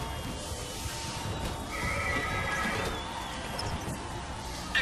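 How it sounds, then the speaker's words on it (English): A mechanical horse in BioShock Infinite neighs in a drawn-out whinny over a constant hum of background ambience, with faint clip-clop textures underneath. "Opus Mechanical, the automatic stallion, the horse of the future, today."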